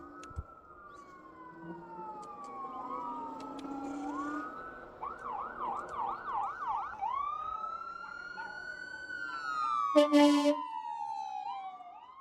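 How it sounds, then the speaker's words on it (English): Emergency vehicle sirens wail and yelp as they pass through Albuquerque city streets, rising and falling in long sweeps with a rapid yelping burst midway and a sharp loud blast near the end, over steady traffic rumble. "We're getting some sirens."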